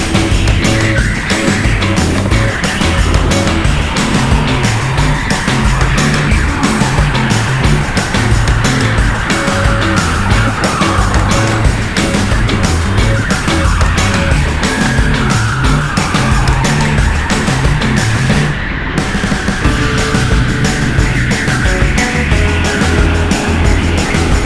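Go-kart engine droning steadily through a fast lap at TeamSport Eastleigh, loud and close throughout, with revs rising and falling in a constant rhythm and occasional tyre scrub through corners, no talking.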